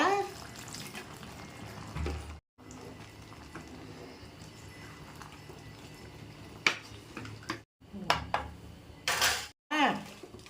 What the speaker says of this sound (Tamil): கொஞ்சம் தண்ணி ஊற்றிக்கலாங்க